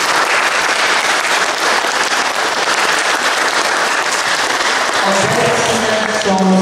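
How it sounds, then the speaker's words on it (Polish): A school hall crowd applauds a newly introduced class teacher at a first-year pledge ceremony, loud dense clapping held steadily throughout, with a faint tonal sound creeping in near the end. "Wielkie brawa."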